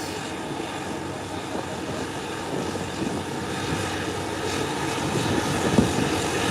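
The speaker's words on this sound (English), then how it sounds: "Look at those lively props." Embraer 120 Brasilia turboprop at Howard Hamilton International Airport with its propellers turning, a steady droning rumble at moderate distance with airport ambience.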